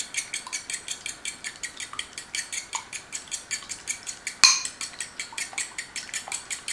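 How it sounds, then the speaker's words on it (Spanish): Egg is whisked in a bowl with quick, rhythmic clinking strokes of about three per second, close and steady, with one sharper knock partway through. "Batimos el huevo."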